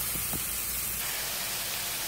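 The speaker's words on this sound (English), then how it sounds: "So here's the cauliflower, and it is frying." Marinated cauliflower frying in a pan for jollof rice gives a steady, even sizzling hiss, close and continuous, with a couple of faint clicks near the start.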